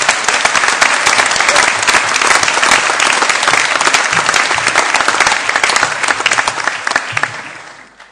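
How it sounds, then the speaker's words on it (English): A large graduation ceremony audience at Ulster University's Magee campus applauds in summer 2019, producing loud, dense, sustained clapping that fills the hall and fades out at the end. "if you could just show a round of applause and appreciation to your friends and family"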